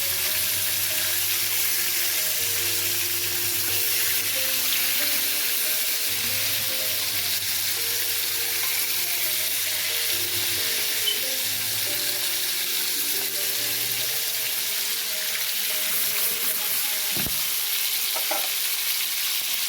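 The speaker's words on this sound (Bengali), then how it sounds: "মাছগুলো এখানে উল্টানোর পর যাতে দুপাশে সমানভাবে বাজা হয়ে যায়" Fish fry in hot oil in a pan and get turned over, giving a steady, crackling sizzle throughout with an occasional clack of a utensil against the pan near the end.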